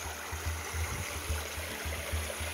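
A mountain stream in Jonkershoek, South Africa, rushing steadily as a constant broadband wash of water with a low, pulsing rumble underneath.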